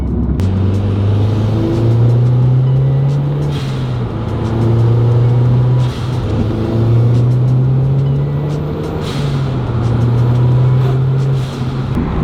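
A Mazdaspeed 3 fitted with a large top-mount intercooler pulls hard under acceleration, its engine droning loud and close as the revs climb and drop through gear changes, with no talk over it.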